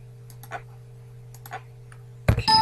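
Computer mouse clicks while copying and pasting events in a Construct 2 game editor, a few soft, sparse ticks over a low hum, then a louder burst of clattering at the end.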